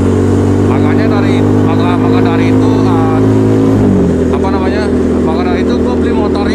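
Motorcycle engine humming steadily while riding on a road to work, loud and close with a gear or speed change midway, under continuous talk from the rider.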